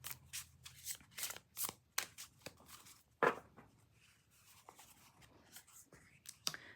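Someone shuffles a deck of normal-sized Magic of You oracle cards in quick, quiet bursts of riffling and sliding, with irregular pauses and a sharper snap partway through.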